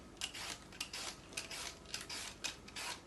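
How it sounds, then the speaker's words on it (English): Cooking apples being peeled: quiet, rhythmic scraping strokes repeat about every half second, close by, with no voices. "So I peeled all of my cooking apples"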